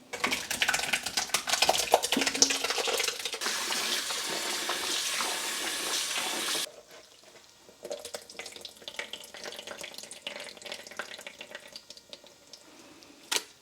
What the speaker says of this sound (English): So now I need to pour it through a strainer, and then I need to run cold water over it and mix it up